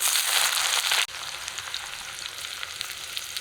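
Chopped onion hits hot mustard oil in a wok with dried chilli, bay leaf and cumin, a loud hiss that drops sharply after a second into a steady, crackling sizzle with faint stirring.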